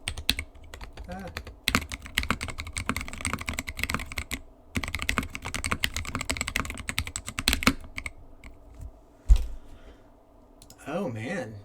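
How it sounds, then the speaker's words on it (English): Typing on a KBD Fans D60 keyboard fitted with Cerulean switches, a steady run of close, crisp keystroke clicks in bursts with brief pauses, with someone speaking briefly near the end. "Like typing like this."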